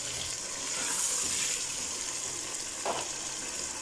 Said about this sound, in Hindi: अब इसको तकरीबन 5 से 6 मिनट के लिए मीडियम फ्लेम पे मैं अच्छे से भून लूँगी।